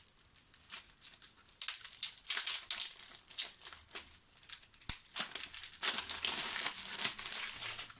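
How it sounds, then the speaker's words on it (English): Cellophane wrapper being peeled off a new deck of playing cards, continuous close crinkling and crackling with uneven bursts throughout, no talking. "It's proving more difficult just to get the cellophane off."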